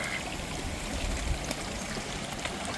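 A creek runs steadily near a pool where domestic ducks gather in Cincinnati, Ohio, its water rushing and trickling in a constant close wash with no one talking.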